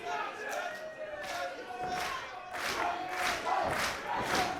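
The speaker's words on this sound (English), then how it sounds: "Crowd really getting behind Cody here." A wrestling crowd at a DEFY On Edge show roars and cheers continuously, with loud rising swells of shouting and chanting that surge several times across the arena, close and dense throughout.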